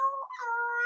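A comedian's voice imitates a cat's meow on stage, a single short, drawn-out, tonal mew that wavers in pitch, fairly quiet and alone.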